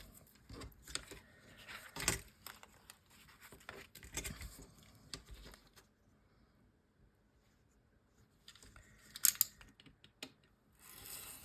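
Scissors trimming the top and bottom edges of a sheet of paper for a junk journal page, several quiet crisp snips and rustles in bursts with pauses between, close up and faint.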